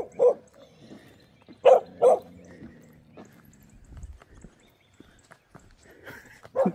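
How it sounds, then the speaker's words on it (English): A dog barks and growls, a few sharp close barks spaced apart with a low rumbling growl between them and another bark at the end. "I can hear a little growl in her voice."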